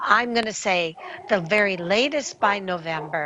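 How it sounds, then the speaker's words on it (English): Dogs bark and yip in the background while a person talks continuously over them. "Excuse the dogs barking."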